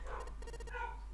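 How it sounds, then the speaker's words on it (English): A pet dog barks excitedly in a house, a short run of quick yips and barks set back at a distance, faint beneath a steady low hum, with no talk. "I can hear my dog losing it."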